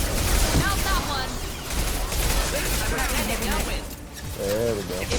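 Gunfire in the video game Mass Effect 2, with incendiary rounds: bursts of shots and impacts layered under game dialogue and effects, loud and dense throughout, with voices speaking over the action.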